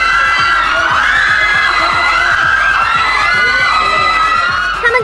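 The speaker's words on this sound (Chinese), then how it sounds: "一出关粉丝们便上演惊声尖叫" Fans at an airport arrival for a visiting Japanese pop group scream loudly and continuously. Many high voices overlap in a dense, close, sustained roar of shrieks and cheers.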